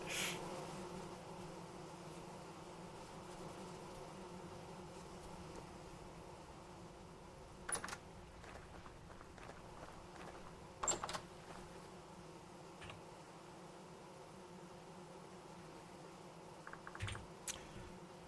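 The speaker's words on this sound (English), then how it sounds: "why are you guys not making honey? All these other bees are doing it right." Bees buzzing around hives in the Vintage Story video game, a steady low drone with a few brief clicks and taps over it, faint and continuous with no talking.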